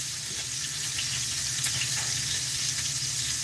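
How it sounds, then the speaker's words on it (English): Honey riblets frying in a pan give off a constant close, crackling sizzle with small pops, loud and uninterrupted with no talk over it. "listen to that sizzle"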